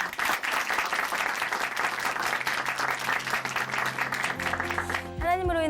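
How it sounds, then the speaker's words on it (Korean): A church congregation gives sustained, dense applause after a testimony on a Christian TV program, then it fades out as a voice and a short musical tone come in at the end. "다시 한번 박수 보내드리겠습니다"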